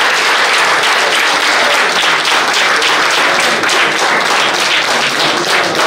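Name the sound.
audience applauding the jury's award of a doctorate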